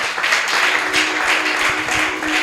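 Congregation at a Sunday church service applauding and cheering in acclaim of Jesus, a dense, steady wash of clapping and voices filling the room throughout.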